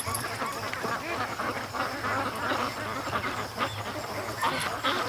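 A flock of free-range ducks quacks steadily on a lake, many birds calling over one another at mid distance against a constant ambient hiss.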